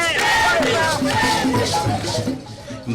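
A jubilant crowd of Cascades residents in Burkina Faso cheers and cries out to welcome the president, loud and close, with shrill, high voices rising over the massed noise.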